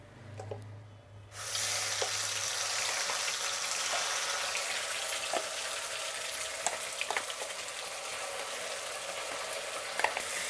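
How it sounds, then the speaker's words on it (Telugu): Masala spices frying in a hot pan after cinnamon and cloves, a steady loud sizzle that jumps up sharply after a quiet start and carries on with light scraping stirs, no voices. "మసాలా ఎక్కడ అడుగంటకుండా కలుపుకోవాలండి, బాగా వేయించుకోవాలి మసాలా అనేది."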